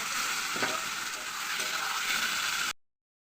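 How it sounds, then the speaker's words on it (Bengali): Spices frying in oil in a kadai (wok) after potatoes and pointed gourd were fried, a steady close sizzle with a few stirring scrapes, running alone until it cuts off abruptly near the end. "এখন মশলাটা একটু দিয়ে কষিয়ে নেব"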